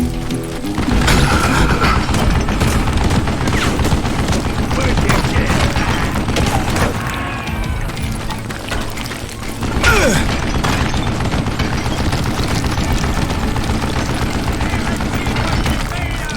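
A mounted gun fires in Call of Juarez: Gunslinger, a dense and continuous barrage of rapid shots and crashes that stays loud and close throughout, with a brief lull near the middle.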